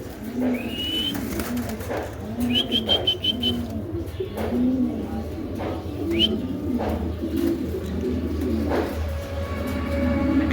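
Cream bar and drop pigeons coo in repeated low, rolling phrases close by, with sharp higher chirps from other birds and a steady background rumble.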